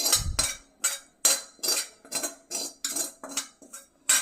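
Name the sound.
scraping stuck crust off a cooking pan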